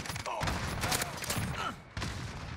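Bursts of M4A1 assault rifle fire from the Modern Warfare video game, rapid close shots crackling in dense volleys with a brief pause before firing resumes.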